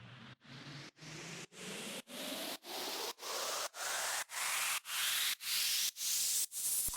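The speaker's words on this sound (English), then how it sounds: "I'm going to hit reverse. Okay. And I'm going to turn it into an uplifter." A reversed sound processed in Logic Pro into an uplifter effect: a rhythmic series of about a dozen short noise bursts, each swelling and rising in pitch, growing steadily louder and brighter, heard alone without talk.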